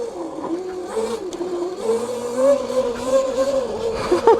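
An upgraded mini dirt bike's small engine accelerates and revs, its buzzing whine rising and falling in pitch at moderate distance, with brief voices and wind-like noise mixed in.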